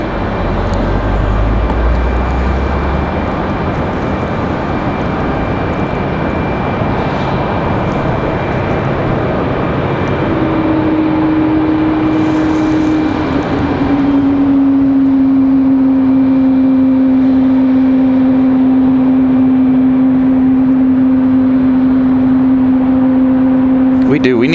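A jet airplane at Raleigh Durham airport roars loudly and steadily, the broad rumble shifting into a sustained whining engine tone as it passes, with people talking underneath.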